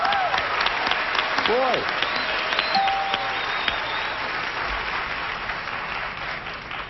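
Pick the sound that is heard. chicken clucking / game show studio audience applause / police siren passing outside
game show studio audience applause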